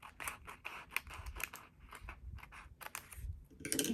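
Paper being cut with scissors for a creative journal, a run of short crisp snips and scrapes repeating close by with small pauses, heard alone.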